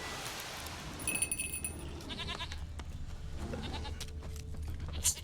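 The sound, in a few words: goat bleating in The Witcher 3 video game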